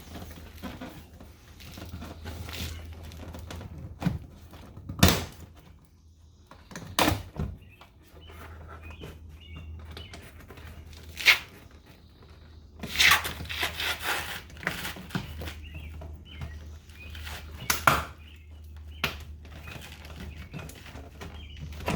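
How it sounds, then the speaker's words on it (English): Plastic door trim fasteners on a 2016 Mazda 6 being tugged loose, giving several sharp, separate pops and snaps spread out over a low, steady background hum, with no talking. "You'll start hearing the pops from those fasteners popping off."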